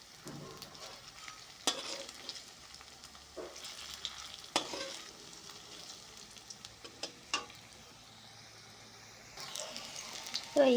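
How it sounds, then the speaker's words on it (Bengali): Soybean vegetable pakoras frying in hot oil, quiet continuous sizzling broken by repeated clacks and scrapes of stirring, close by and alone with no talking. "পকোড়াগুলোকে আর কি ভাজছি।"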